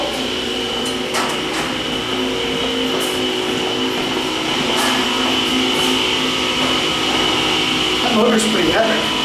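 A vintage Dover hydraulic elevator motor in an office building hums and whines steadily, a loud constant drone with faint clicks, as people talk nearby.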